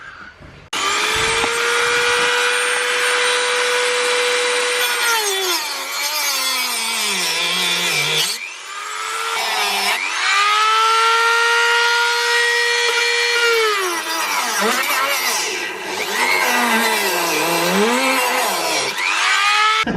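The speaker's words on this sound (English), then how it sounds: "I've got a Dremel, so I'm gonna start cutting this shit up." A Dremel rotary tool cutting parts on a Ford Fiesta ST: a loud, close high-pitched whine that drops in pitch as the bit bites and rises again when it frees up, across several long passes with brief stops.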